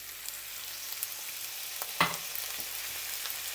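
Potatoes fry in a pan for a shepherd-style Spanish potato omelette, a steady close sizzle broken by a few brief scrapes and knocks of stirring, with one sharper clatter midway and no voices.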